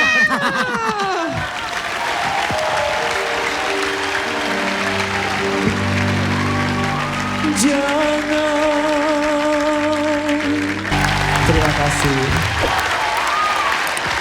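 Crowd applause and cheering fill the clip, with a voice speaking briefly over the clapping.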